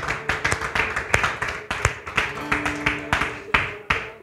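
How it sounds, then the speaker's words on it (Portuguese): Congregation at a church worship service clapping along in a steady rhythm, a loud, close string of claps with faint singing or voices underneath. "Podemos aplaudir o nosso Senhor."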